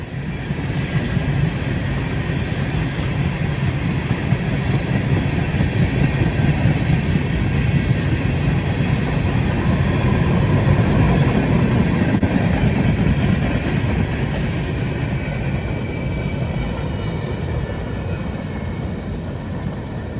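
A northbound freight train hauling a long cut of tank cars rolls past on the railroad near Folkston, a loud continuous rumble and roar holding steady throughout with no voices.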